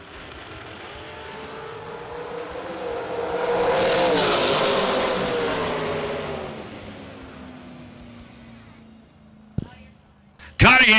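A dragster blasts down the drag strip at a bracket race, its engine roar swelling to a loud peak and then fading into the distance, followed by a couple of sharp, sudden bangs near the end.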